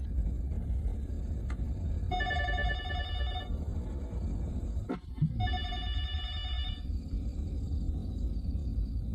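An old telephone bell rings in two bursts, each over a second long, with a brief clunk between them, over a steady low rumble like traffic or room noise.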